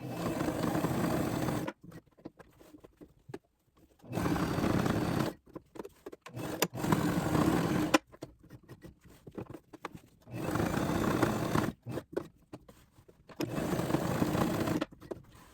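A sewing machine stitching diagonal back-and-forth triangles across a bag strap, running close up in bursts of about two seconds, each separated by short quiet pauses.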